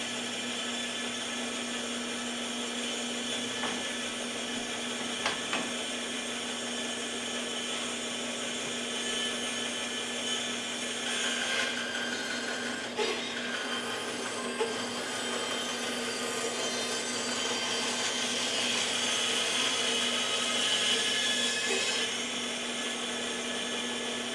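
A hand saw cuts through logs for snowshoe making, producing a continuous rasping sound, steady and fairly close, with an underlying hum and no talking.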